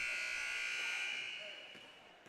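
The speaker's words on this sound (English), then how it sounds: "And that was not our buzzer again. Nope. It's court next to us." A game buzzer from an adjacent basketball court sounds at a basketball pro-am, a steady electronic drone held for about two seconds that fades slightly toward the end, moderately loud in the gym ambience.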